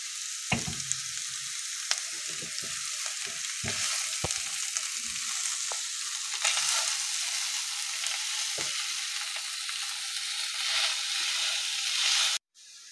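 Chicken masala sizzles in a pan on the stove, a steady bright frying hiss broken by scraping stirs and occasional clinks, ending with an abrupt clatter.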